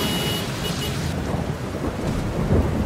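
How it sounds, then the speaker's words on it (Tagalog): Heavy typhoon rain pours steadily with rumbling thunder rolling underneath, a dense, loud wash of sound with no voices. "Lakas ng ulan."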